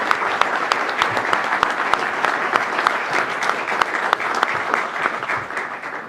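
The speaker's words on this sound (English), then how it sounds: "So would you please, with your warm applause, welcome the Commandant of the Coast Guard, Admiral Zukunft." A crowd applauds steadily and loudly as the Commandant of the US Coast Guard is welcomed, sustained clapping with no break, holding throughout before easing slightly at the end.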